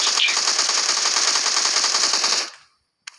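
A machine gun fires in PUBG, a loud sustained burst of rapid shots for over two seconds that cuts off abruptly, followed by a brief click.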